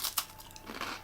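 Crunchy British crisps are bitten and chewed up close, giving a few quick crisp crunches and crinkles in a brief, quiet burst.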